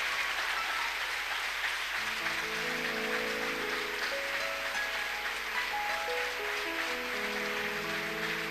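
A church congregation applauds quietly and steadily while sustained keyboard or organ notes step through a slow melody above the clapping; no one speaks.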